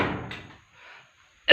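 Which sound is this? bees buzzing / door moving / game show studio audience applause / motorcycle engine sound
door moving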